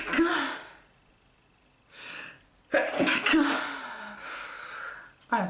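A woman sneezes loudly up close, with a sharp inhaled gasp before the burst and breathy sounds after, followed by a second short sneeze-like burst; otherwise quiet indoor room.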